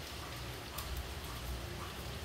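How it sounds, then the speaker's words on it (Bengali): Heavy rain falls steadily with gusting wind during a rainy day outdoors, a dense, even hiss filling the whole stretch with a low rumble underneath, loud and close, no voices. "অনেক পরিমাণ বৃষ্টিও হইতেছে"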